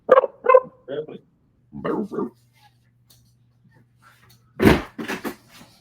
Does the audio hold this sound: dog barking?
yes